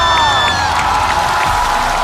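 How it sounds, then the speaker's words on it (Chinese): A stand-up comedy audience cheers and applauds loudly as comedians are welcomed, with whoops and sharp whistles rising over dense, continuous clapping across the whole stretch. "掌声有请"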